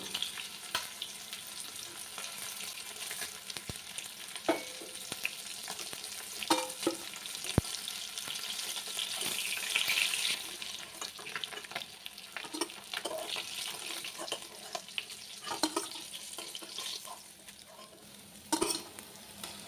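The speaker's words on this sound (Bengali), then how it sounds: "মাছ ভাজা হয়ে গেছে এখন এই মাছ ভাজাগুলো নামিয়ে নেব" Pomfret fish pieces frying in oil in a home kitchen, a soft continuous sizzle with intermittent scraping and turning clinks from a spatula, fairly quiet and close, no voices.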